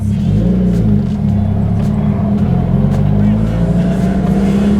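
A Subaru WRX with a swapped-in 6-speed gearbox pulling away, a loud steady low engine drone close by, its pitch shifting slightly as it moves off.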